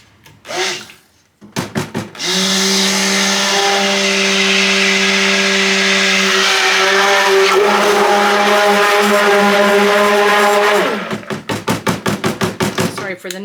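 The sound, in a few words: mixer blending milk, colloidal oats and clay for soap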